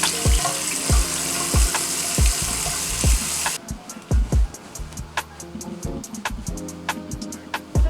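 Running water splashes at a bathroom sink as face wash is rinsed off, a steady close hiss with repeated splashing bursts from hands cupping water, softening partway through.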